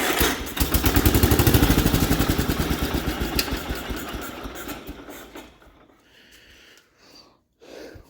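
A 1967 Gravely 430 tractor that has sat outdoors for years cranks rapidly with its engine chugging and sputtering. The rhythmic turnover fades and slows to a stop after about five seconds, followed by a few faint clanks and handling noises.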